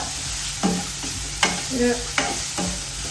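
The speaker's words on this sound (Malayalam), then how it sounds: "നമ്മുടെ കുഞ്ഞുള്ളി നല്ലതുപോലെ ഫ്രൈ ആയി" Small shallots fry in a pan with a constant oily sizzle, broken by several distinct scraping stirs at roughly even intervals, close and clear with no voices.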